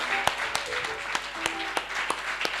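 Church congregation acclaiming Jesus with applause and shouts of joy during worship, a dense, steady wash of clapping broken by sharp louder claps and brief cries.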